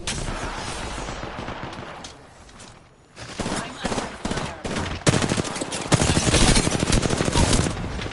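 Heavy gunfire in an Apex Legends solo ranked match, rapid loud bursts that dip briefly, then return harder and denser, with some voice audible over the shooting.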